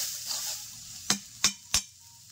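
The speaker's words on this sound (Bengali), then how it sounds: "এরকমভাবে অনবরত নেড়েই গেছি, তা নাহলে কিন্তু লেগে যাবে নিচে" Prawns frying in a pan with a faint sizzle, followed by three sharp, close scrapes of a spatula against the pan bottom.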